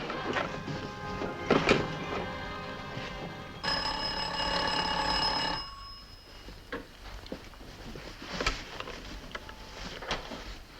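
A telephone rings in a hotel, a bright repeated electric bell that sounds for about two seconds midway through, set against quieter room noise and light rustling with no talk.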